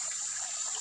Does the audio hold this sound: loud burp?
no